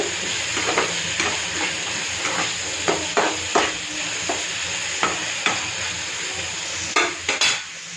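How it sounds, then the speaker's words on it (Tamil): Tomatoes sautéing in a pan, a steady close sizzle with repeated clinks and scrapes of a spoon stirring against the metal, and no voices. "தக்காளி நல்லா வதங்கணும் இதை வதக்கணும் வதக்கிட்டு"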